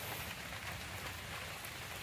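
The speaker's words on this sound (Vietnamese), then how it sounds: "Trời mưa nữa chứ." Rain falls outdoors beside a grilling fire as a faint, even hiss of countless drops that continues without break, with no talking.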